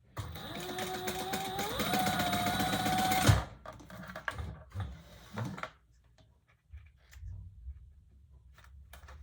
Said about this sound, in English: This distance from the top of this one, and sew across the bottom.